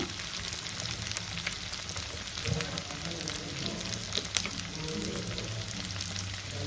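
Mutton pieces fry with spices in a pan, giving a steady, moderate sizzle with occasional small pops and stirring scrapes, and no talking over it.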